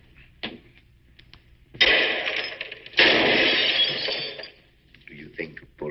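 Loud gunshot-like bursts ring out in an old film scene, two long harsh blasts with crackling decay following a shorter sharp report, close and dominant with faint sounds between.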